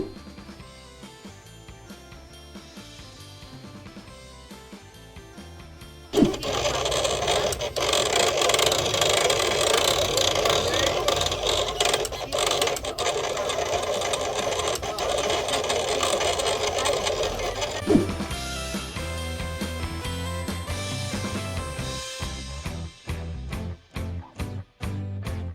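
A Silhouette Cameo plotter draws with a pen on 300 GSM photo paper, a steady mechanical whirring and rattling of the carriage running for about twelve seconds between quieter stretches, followed by short clicking moves as it finishes.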